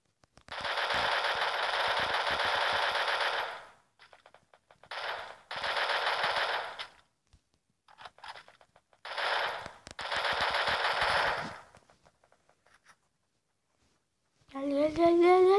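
Rapid automatic gunfire from a shooter video game, in several loud sustained bursts separated by short pauses, ending with a rising electronic tone.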